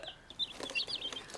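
Chickens on a rural Korean farm cluck close by, several short, overlapping calls against a quiet background.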